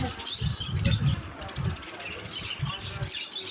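Doves at a bird market coo in soft, low, repeated pulses, while other birds chirp and faint voices murmur in the background.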